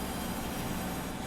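Locomotive wheels slipping on track in the Derail Valley train simulator, a steady rumbling rail roar with a faint squealing edge, continuous and fairly loud, with no talk.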